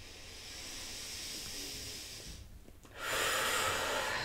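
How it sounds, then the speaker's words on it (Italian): Slow deep breaths during a gentle neck exercise, a close airy inhale hiss that pauses briefly and then swells into a louder exhale, with no speech. "Fate dei respiri più profondi se si rendono necessari"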